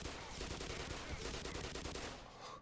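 Sustained rapid gunfire in the Half-Life remake Black Mesa, a dense continuous burst of automatic shots lasting the whole moment, loud and close with no voices over it.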